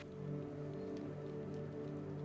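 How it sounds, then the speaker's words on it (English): Rain in the video game Dispatch falls as a steady, faint wash of patter flooding a neighborhood, a continuous even hiss with no voices. "This fucking rain is flooding our neighborhood."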